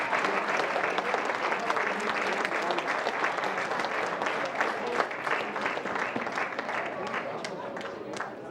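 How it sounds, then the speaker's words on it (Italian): Applause from spectators at a youth athletics championship in Veneto, sustained crowd clapping with a brisk, even rhythm, heard from some distance in an open stadium setting. "Tanto accompagniamolo con un applauso Nicolò Tofanin"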